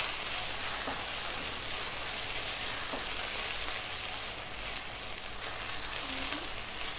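Spicy beef keema sizzles steadily in a pan, restaurant-style karahi, with a continuous loud frying hiss and soft scraping as it is stirred, no talking.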